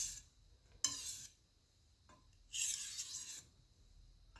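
Chef's knife dragged across a sharpening stone to clean off the burr, giving two separate raspy, scraping strokes with a short gap of quiet between them.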